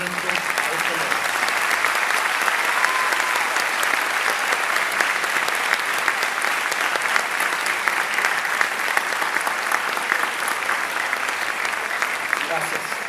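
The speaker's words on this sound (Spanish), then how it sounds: "para brindarles un caluroso aplauso en reconocimiento a este logro" A large audience at an academic recognition ceremony gives graduates long, sustained applause, a dense and even roar of clapping lasting over thirteen seconds without a break.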